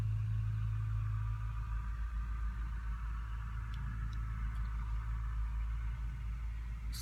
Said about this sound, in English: Sorry for all of the truck noises outside